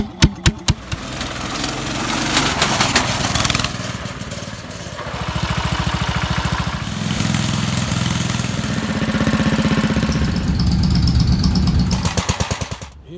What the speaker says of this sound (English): take the old MTD mower here out for a test run and cut the backyard with it